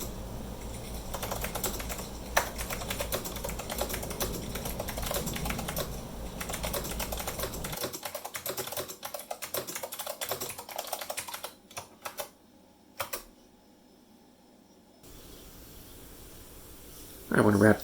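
Fingers type rapidly on a Monterey K101 keyboard with Blue Alps switches, giving dense, crisp clicky keystrokes for about eight seconds. Sparser, scattered key presses follow, then near quiet, and a final burst of noise closes the stretch.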